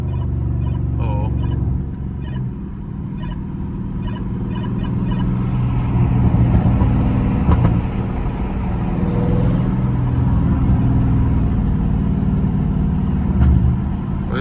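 Dodge Scat Pack weaving through busy traffic, its engine a steady low rumble with road and tire noise throughout, swelling a little midway as it pulls ahead.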